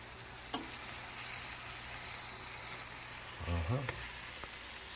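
Green tomato slices fry in a pan with a steady, bright sizzle that holds throughout, broken by a few soft clinks and a brief low voice near the end.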